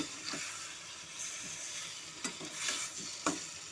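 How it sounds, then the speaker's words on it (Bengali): Chicken and egg fry with spice masala in a pan over low to medium heat, giving a soft, steady sizzle with a few scraping stirs and clinks. "মশলার সাথে চিকেনটাকে ডিমটাকে ভালো মতো করে কষে নিয়েছি"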